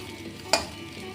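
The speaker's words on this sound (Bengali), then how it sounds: "দিয়ে এবার একটু বেশ করে ভেজে নেব" Pumpkin and egg bhujiya with potato fries in oil, a soft steady sizzle broken by a single sharp scrape or clink of a spatula against the pan, close and brief with no talking.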